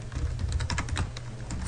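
Quick, uneven keystrokes clatter on a computer keyboard as a query is typed, close and clear with no talking.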